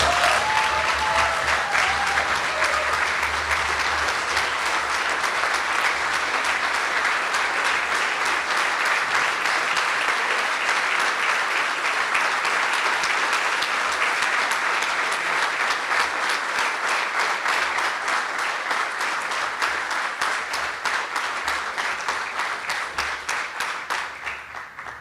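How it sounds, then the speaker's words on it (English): An awards banquet audience gives sustained, dense applause for a lifetime achievement recipient at a chamber of commerce dinner, with the clapping staying steady and full before tapering slightly at the end. "Ladies and gentlemen, let's give a round of applause"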